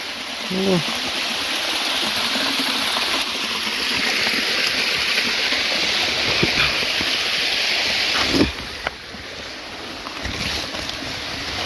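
A small stream-side waterfall in the forest gives a continuous, moderately loud rushing hiss of flowing water throughout, with a few brief knocks and handling sounds near the end.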